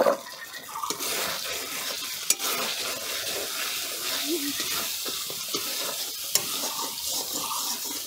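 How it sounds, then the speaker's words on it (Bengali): Ground spices, turmeric, chilli, coriander and cumin with sesame paste, sizzling and being stirred in a pan for eggplant posto, a steady close hiss with faint scraping and a couple of clinks. "সুন্দর করে কষিয়ে নেব মশলাটাকে"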